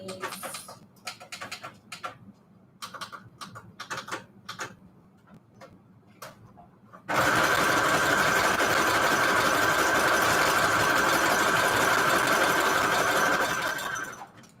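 Sewing machine stitching a zigzag on shabby chic bedsheet notecards, starting after a stretch of quiet clicks and rustles and then running loud and continuous for several seconds before winding down.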